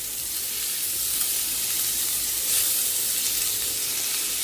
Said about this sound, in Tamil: இப்போது அந்த முருங்கைக்கீரை ஒரு 2-3 நிமிஷம் நல்லா வதங்கி வரட்டும்.